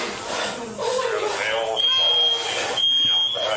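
A smoke alarm shrills steadily during a police shooting incident inside a building, its piercing tone starting partway through and staying loud beneath urgent talking voices.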